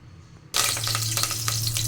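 Cooking oil poured into a pressure cooker sets off a sudden loud, steady hissing sizzle after a quiet start, holding at full strength to the end.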